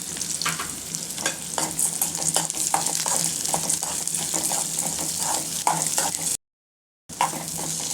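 Fried gram roasted with onions in a pan: close, busy stirring and scraping over a continuous light sizzle, with irregular clicks of a spoon against the pan, then a short total silence before it resumes.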